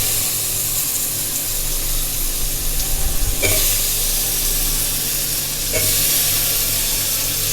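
Potatoes and fenugreek leaves fry in a pan for a steady, loud sizzle, with brief stirring clatters near the middle and again toward the end.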